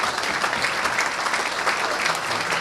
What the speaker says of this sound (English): About a round of applause for Mayor Robert Sullivan